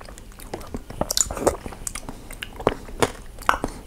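Someone bites and chews sour passion fruit up close, with wet crunchy bites and squishy chewing at an irregular pace and brief faint vocal sounds in between.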